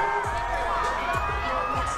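Crowd cheering and shouting for a K-pop group, steady and dense throughout, with a music-like tonal backdrop and scattered whoops.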